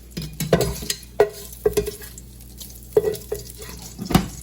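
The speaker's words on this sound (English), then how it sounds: "And next we're going to add" Andouille sausage drops into hot oil in a pot for jambalaya and sizzles, with several distinct spoon scrapes and clacks against the pot as it is stirred, close and fairly loud.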